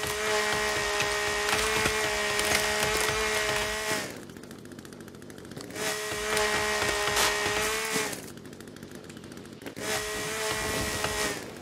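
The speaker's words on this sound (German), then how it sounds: "Kettensäge." Chainsaw in the survival game The Forest biting into wood in three loud bursts of steady engine whine, separated by short idling gaps, with no talk.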